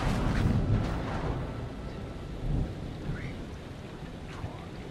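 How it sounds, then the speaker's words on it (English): A thunderstorm rolls through the video game Man of Medan, deep thunder rumbling and swelling over a steady hiss of rain, with a second heavy rumble building midway before fading back into the downpour. "Storm's 8 miles away."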